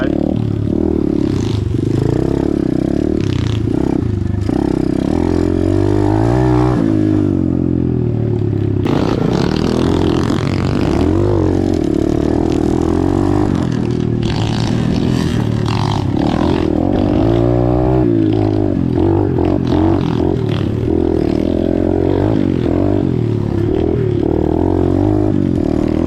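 An Apollo DBX15 Chinese pit bike ridden off-road, its small engine buzzing and revving loudly throughout with rising and falling pitch, plus clattering and scraping from the ride.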